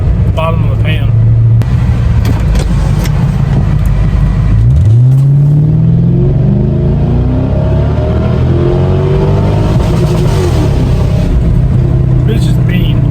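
A 1997 Lexus LS400 under hard acceleration, its engine rising steadily in pitch through the gears from inside the car, loud and continuous, with a person talking over it.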